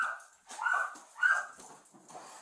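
Malnourished dogs inside a filthy house bark and whimper in short, strained yelps, three bursts close by with brief pauses between.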